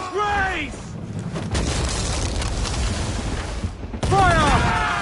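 Naval cannon fire from a pirate ship in Assassin's Creed 4 Black Flag: heavy booming volleys roll continuously through a dense battle din, with shouted crew voices cutting in at the start and end.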